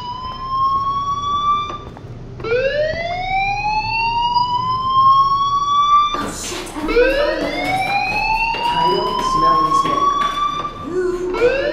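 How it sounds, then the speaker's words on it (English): Rising, wailing alarm tones sweep upward in repeated cycles inside a school in the Life is Strange video game, loud and continuous, with a jarring restart partway through and background clatter. "Hey, do you hear that fire alarm?"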